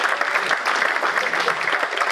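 A big round of applause from an audience at a talk or ceremony, dense and steady clapping filling the whole stretch at close range, with no voices over it.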